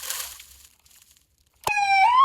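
A toy ambulance plays an electronic wailing siren that starts abruptly after a brief hiss and quiet, loud and close, with its pitch rising.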